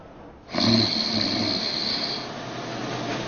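A person snores in one long, loud, rasping breath that begins abruptly and then eases into a steadier, softer hiss, heard close and without talk.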